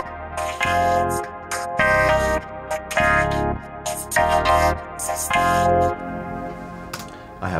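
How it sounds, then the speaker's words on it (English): A soloed vocoder part from a song plays robotic, synthetic chordal tones in choppy, gated bursts that pulse rhythmically for several seconds, loud and alone with no talking. "So if I solo the vocoder as well, it'll sound like this."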